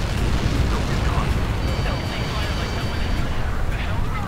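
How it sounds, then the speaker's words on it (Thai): A big explosion from the jet combat game Ace Combat 7 rumbles loud and sustained, a dense continuous blast filling the whole stretch with no break. "ระเบิด"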